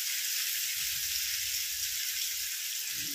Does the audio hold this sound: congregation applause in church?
no